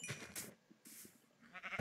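Sheep in the Minecraft video game bleat in a few short calls spread across a brief moment, close and fairly clear, with no talking.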